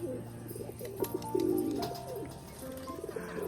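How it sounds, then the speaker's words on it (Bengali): A white male pigeon coos close by in soft, throaty, warbling phrases that swell and fade, repeating over a few seconds with a faint background hum. "এই সাদা মদ্দাটা আমার বাড়ির অনেক দিনের পায়রা আর কি আর ডাকটা দেখেছে কত সুন্দর"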